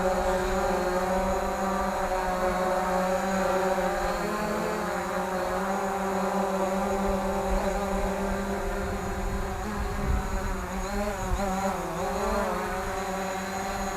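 A Hubsan Zino drone hovers and maneuvers close by, its propellers making a continuous buzzing whine whose pitch wavers and bends as it shifts position, steady in loudness over the whole stretch.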